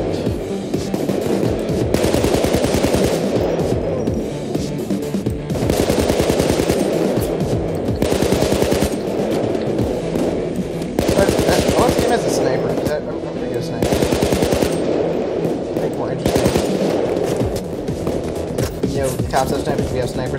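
Automatic gunfire in the video game Payday 2 during a bank heist: loud, sustained rapid-fire bursts several seconds long, separated by brief lulls, repeating throughout.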